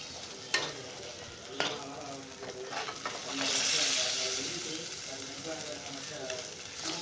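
Squid gravy sautéing in oil in a pan gives a steady close sizzle with stirring scrapes and a few sharp clinks, swelling into a louder hiss midway, while a voice talks faintly at times.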